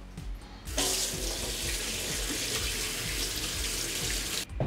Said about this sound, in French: Première action, laver les poivrons parce que l'hygiène, c'est important.